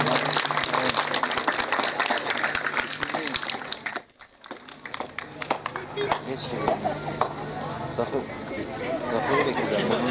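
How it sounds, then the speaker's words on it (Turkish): Crowd clapping for Şevket at a lively Cypriot gathering, mixed with loud overlapping chatter and calls; a sharp bell-like electronic tone rings briefly partway through while the clapping and voices continue around it. "Şevket'e bir alkış alalım."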